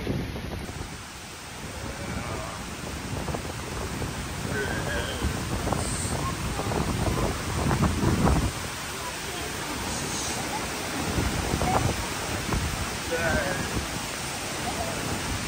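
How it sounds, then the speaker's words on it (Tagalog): Typhoon-strength wind roars and gusts steadily into the microphone on Boracay with heavy rain hissing throughout, a continuous loud stormy rush. "Yan, ang lakas ng hangin."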